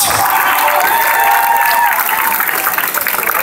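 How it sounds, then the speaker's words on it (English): A crowd gives loud, dense applause welcoming a speaker at a fair-play oath ceremony for the Wrocław Trophy 2014, sustained and full throughout with faint cheering mixed in. "Please give him warm applause"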